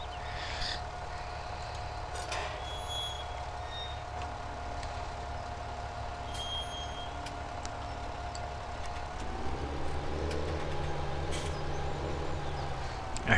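Tractor engine idling in the video game Farming Simulator 17, a steady low drone with a constant tonal hum that rises in pitch and grows slightly louder near the end, with scattered faint clicks over it.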